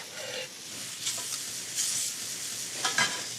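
Shrimp sizzle steadily on a hot grill as they are flipped and turned, with a constant close hiss and a few brief scraping bursts from the turning, and no voices.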